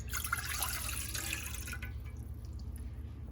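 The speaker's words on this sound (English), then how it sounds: "I'm gonna add my water" Tap water pours steadily into a cooking pot on a home stove as lemonade syrup is started, a continuous near splash that cuts off partway through, leaving a low hum.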